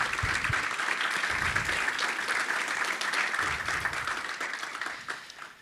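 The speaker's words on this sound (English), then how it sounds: "Please, everyone, join me in giving them a round of applause." An audience at a Toronto deeptech expo gives a round of applause, dense steady clapping from many hands, loud and sustained before tapering off at the end.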